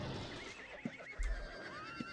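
A horse in the online role-playing game Ultima Online gives a short, fairly quiet whinny, with faint hoof clip-clops and game ambience around it.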